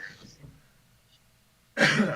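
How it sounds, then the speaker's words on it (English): A small sneeze bursts out abruptly near the end, loud and close, after a few soft breaths and near-silence. "a little sneeze there"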